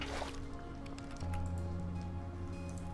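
Water is scooped in a Minecraft-style modded game, a short wet squishing splash with dripping, followed by a steady low hum of game ambience.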